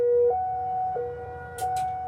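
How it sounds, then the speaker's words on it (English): A Cold War era civil defense siren blares in Hawaii during its monthly test, a steady wailing tone that holds and shifts pitch slightly, heard from some distance with a couple of brief noise bursts near the end. "every month we have a Cold War era siren that blares"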